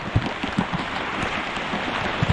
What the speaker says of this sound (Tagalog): Walang tigil mga kautol ang ulan.